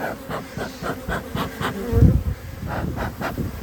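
A honeybee swarm hums inside its hive: a dense, close buzz of many wings with pulsing swells and one louder low burst midway, and no voices.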